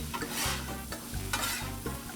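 Steak being pushed around, spread out and flipped on a Blackstone 22-inch griddle, with steady close sizzling broken by several scraping spatula strokes at an uneven pace. No one talks.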